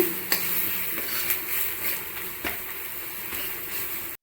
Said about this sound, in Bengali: লঙ্কার গুঁড়ো, ধনের গুঁড়ো, জিরের গুঁড়ো দিয়ে ভালো করে নাড়িয়ে চাড়িয়ে নিচ্ছি